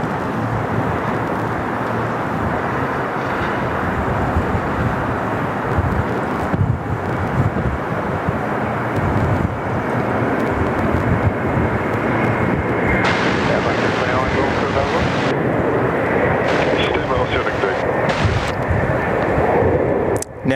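Qantas flight 043, an airliner bound for Bali, taking off from Sydney Airport, its engines producing a loud, sustained roar with wind buffeting on the microphone and a voice talking over it.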